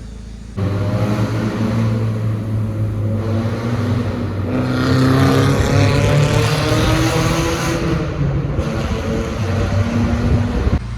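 A 2023 Maruti Suzuki Swift with a loud valvetronic exhaust idles close by, then revs hard into a loud, raspy roar that holds for several seconds before dropping back to a rumbling idle.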